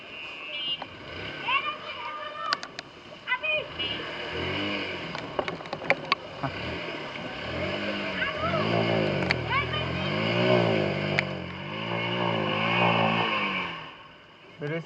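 A motorcycle pushes through chest-deep floodwater after heavy Remal cyclone rain, its engine revving and splashing beneath several excited voices talking and shouting over it.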